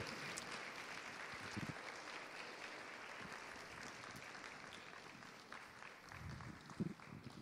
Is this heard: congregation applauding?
yes